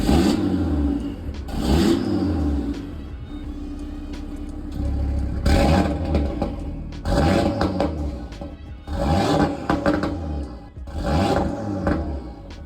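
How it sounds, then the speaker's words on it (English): An Audi RS3 8V Sportback's factory RS sports exhaust revving repeatedly, loud bursts of roaring engine rising and falling in a rhythmic series, close by, with no talking. "the Audi RS Sports exhaust system"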